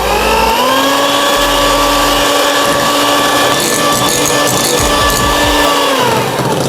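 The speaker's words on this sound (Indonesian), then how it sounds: "Mixer kembali hingga adonannya mengembang," An electric hand mixer whirs steadily and loudly, beating a pudding cake batter until stiff, its motor pitch holding even before dropping slightly near the end.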